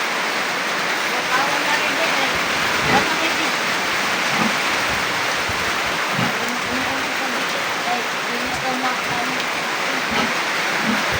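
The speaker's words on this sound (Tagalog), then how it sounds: "Nah, ulan na guys." Steady, loud rain noise fills the clip as a continuous hiss, with faint voices and a few scattered knocks underneath.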